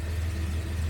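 A Jaguar XJ6 engine idles just after starting, a close, steady low rumble with no clear rev.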